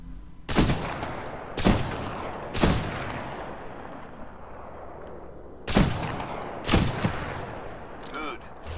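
A player's weapon fires in the video game Titanfall 2: five loud, sharp gunshot bursts, each with a short echoing tail, spread unevenly across the stretch over a low background rumble.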